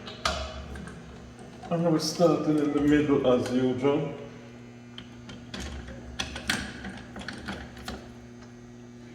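A speed wrench spinning down BMW M10 cylinder head bolts, light ratcheting clicks and metallic ticks scattered close by, mostly after someone speaks over a steady background hum.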